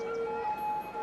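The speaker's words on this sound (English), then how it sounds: "things are going good, I guess, except for all the police cars speeding around" Police car sirens wail in the city-building game Cities: Skylines, a steady pair of electronic tones that shift pitch partway through, fairly loud and with no talk over them.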